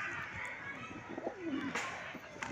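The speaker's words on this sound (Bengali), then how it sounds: "যেমন পায়রা সব নিচে খাচ্ছে এখন।" Pigeons feeding on the ground coo softly in a short, low burble, partly masked by nearby voices and a little background movement.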